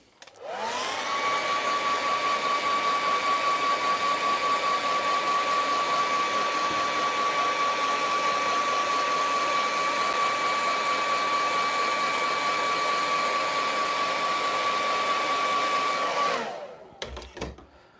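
A hair dryer blows steadily to dry acrylic paint on a snowy mountain painting, a loud continuous whir with a high whine, running for about sixteen seconds before cutting off.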